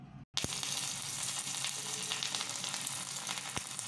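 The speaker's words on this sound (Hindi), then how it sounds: "अब घी में इसे डाल के पकाएंगे।" Crushed ginger, black pepper, turmeric and cloves hit hot ghee with a sharp start, then sizzle in a dense, steady crackle close by, with a couple of faint clicks from the pan.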